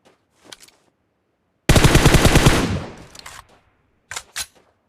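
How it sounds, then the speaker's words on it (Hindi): A sudden loud burst of rapid automatic gunfire erupts in a solo ranked battle royale match, lasting about a second before fading, with a few sharp footstep-like clicks before and after. "तो तभी पीछे से फायरिंग होता है"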